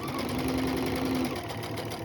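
A sewing machine runs steadily at close range, stitching a seam out to the end in one continuous hum without pauses.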